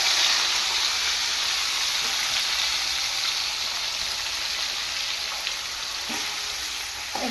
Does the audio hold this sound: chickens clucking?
no